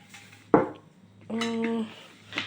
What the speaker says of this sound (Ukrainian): Саме основне сковорідку, таку доволі важку, замашну.